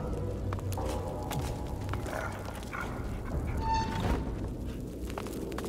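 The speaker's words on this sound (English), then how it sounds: "Those dogs sound out for blood." Hellhounds on the Fort Joy beach in Divinity Original Sin 2 bark and yip in a steady, busy stream over rumbling game ambience, with short whimpers mixed in.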